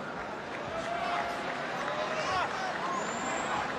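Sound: sellout arena crowd at a martial arts fight in Manila

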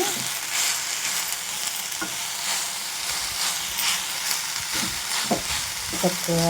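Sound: stirring fenugreek leaves frying in pan

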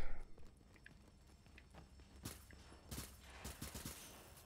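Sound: gunfire from the video game The Division

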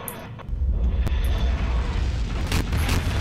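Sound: explosion in Garry's Mod video game

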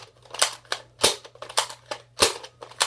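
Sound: Nerf Maverick toy gun firing

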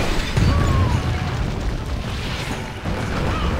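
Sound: explosion destroying castle walls in video game Stronghold 2

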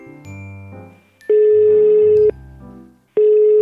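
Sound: telephone call ringing before being rejected

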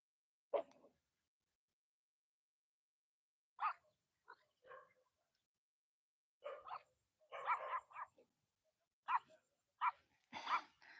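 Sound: dog barking

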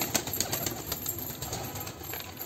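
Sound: pet pigeons flapping and cooing

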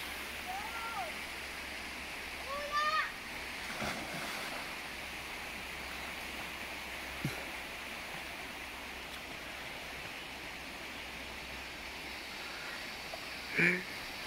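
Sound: water splashing while crossing a river

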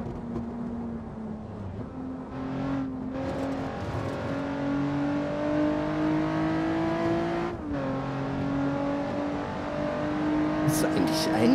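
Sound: Nissan 350Z engine and tires in video game Assetto Corsa

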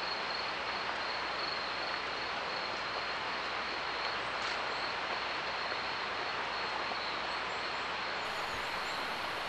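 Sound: mountain stream along hiking trail by Tama River

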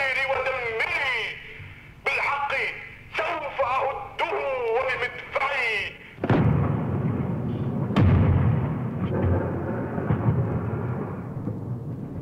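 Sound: gunfire and artillery explosions in war narration

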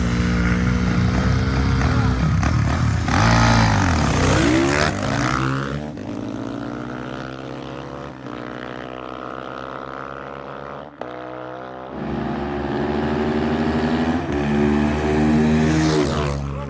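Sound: Geon GNX enduro motorcycle riding past

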